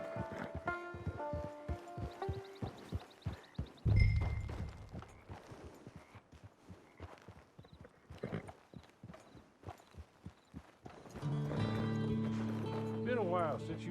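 Horse hooves clip-clopping in Red Dead Redemption 2, a steady rhythmic trot under a voice and game sounds, with a brief heavy thump and, near the end, a swell of music.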